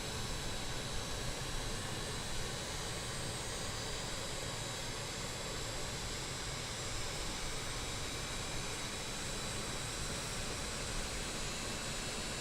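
Engines of a JustFlight RJ Professional regional jet in Microsoft Flight Simulator, heard from a camera positioned outside with the igniters running, giving a constant broadband jet roar that stays steady and fairly loud throughout.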